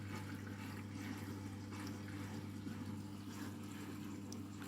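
Candy washing machine taking in water with fabric conditioner during the cottons final rinse prefill, a steady low hum with continuous faint trickling and splashing, no talk.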